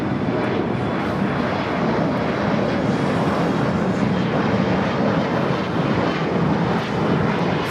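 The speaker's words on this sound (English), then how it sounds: "coming in from Philadelphia, the 787-8 Dreamliner, flight 798" A Boeing 787-8 Dreamliner airliner arriving at LAX from Philadelphia roars loudly and steadily, a broad, sustained jet rumble with no talk over it.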